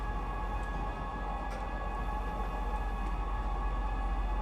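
A train moves in the video game Star Citizen, a steady low rumble with sustained humming tones and faint clicks, continuous and fairly loud with no talking.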